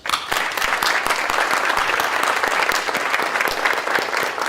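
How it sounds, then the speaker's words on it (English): Sustained audience applause at a European Riverprize ceremony for the inaugural award's finalists, dense and steady clapping filling the room throughout without a break. "And let's keep the applause going for our finalists for the inaugural European Riverprize."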